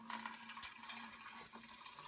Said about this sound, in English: pour the 3/4 a cup of water into our clear plastic jug